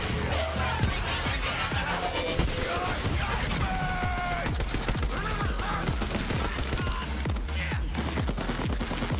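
Rapid gunfire in the video game Borderlands 3, dense bursts of shots and booms crackling continuously with game effects and voices layered underneath.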